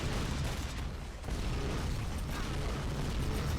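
Rocket launcher blasts in the Unreal Tournament video game make up a dense, loud, continuous wall of booming game noise, with a brief dip in volume partway through before the barrage resumes.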